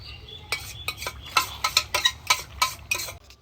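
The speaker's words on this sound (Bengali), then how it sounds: "তো এখানে মাটন কষা শুরু হয়ে গেছে" Mutton is sautéed in a pot at a Christmas picnic, with a rapid run of metallic scraping and clinking strokes from a spoon stirring against the pot, close and fairly even in rhythm.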